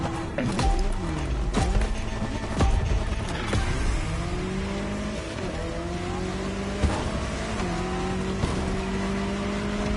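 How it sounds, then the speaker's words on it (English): Jaguar CX-75 concept car racing in The Crew Motorfest, its engine revving up through repeated gear shifts with rising pitch sweeps, loud and close, with brief tire squeals and thuds. "The Jaguar CX-75 concept."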